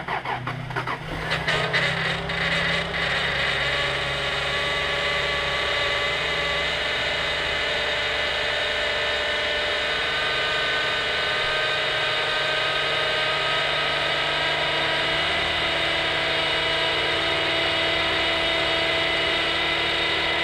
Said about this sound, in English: I've got a noisy power steering pump